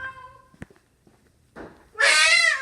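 A cat gives a single loud, close meow that rises and holds briefly, following a few quiet scuffs and soft sounds.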